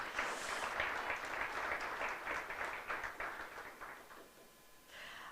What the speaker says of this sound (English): Give them some claps.